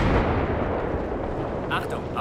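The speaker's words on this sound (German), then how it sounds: "Welcher Panzer schießt hier auf uns?" Battlefield 3 tank cannon fire booms as a heavy, rumbling blast, followed by a dense roar of gunfire and explosions with a voice talking faintly.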